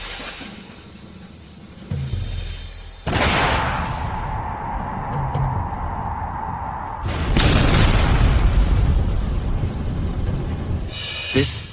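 Aerial bombs dropped by an airship fleet explode in a series of loud, deep booms, with a sustained roaring blast that swells and rumbles on after each impact.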